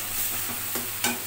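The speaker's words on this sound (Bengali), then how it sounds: "মাছটা আমি মশলার সঙ্গে ভালো করে নেড়ে চেড়ে কষিয়ে নিয়েছি" Fish stirred in a pan with spices, a steady frying sizzle with two short scraping stirs toward the end, close and alone with no voices.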